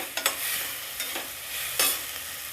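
Tomatoes with turmeric and salt sautéing in a pan, a soft continuous sizzle broken by a few sharp scraping strokes of a spatula, close but fairly quiet with no talking.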